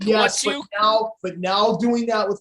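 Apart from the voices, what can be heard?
No distinct noise like a dog, phone or traffic.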